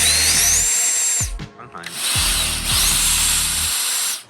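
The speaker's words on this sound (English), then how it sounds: "I drill down." A power drill bores hinge holes in wood during a laundry room makeover, whining steadily in two long bursts separated by a short pause with small clunks, close and loud.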